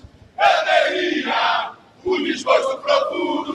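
Flamengo supporters in Lima before the Libertadores final chant the club anthem together, a loud, near crowd of voices in two sung phrases separated by a short pause.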